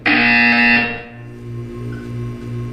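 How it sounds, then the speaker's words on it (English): A loud, harsh electronic buzzer from the game Portal 2 blares for about a second, then a low tone pulses four times in a steady rhythm. "You will hear a buzzer. When you hear the buzzer,"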